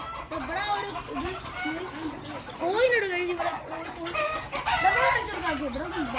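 Several chickens cluck close by on a farm in Oman while a rooster crows loudly partway through, with more crowing and clucking overlapping afterward.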